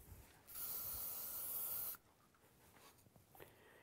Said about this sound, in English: Taking a little spray.